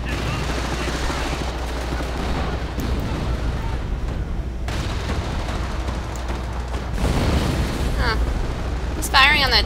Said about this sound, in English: He's firing on the mortar squad.